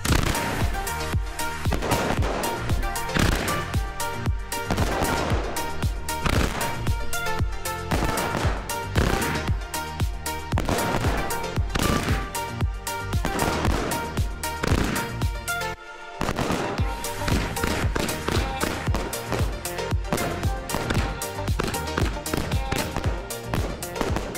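A Hypnotic fireworks battery of 71 shots loaded with 958.5 grams of powder fires in a rapid, continuous string of loud cracks and booms, with one brief gap before the barrage resumes to the end.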